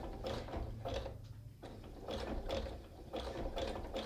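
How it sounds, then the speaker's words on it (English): Sewing machine stitching a coiled rope basket, running in steady bursts with short pauses between, a continuous mechanical whir and rapid needle clatter close up. "I'm just going to completely turn it around so that I can stitch exactly where I just sewed again"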